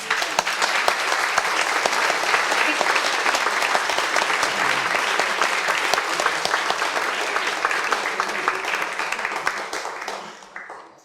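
An audience at an evening gala opening an exhibition on Henry Thoreau and Concord bursts into sustained, full applause that stays steady for about ten seconds, then fades out quickly.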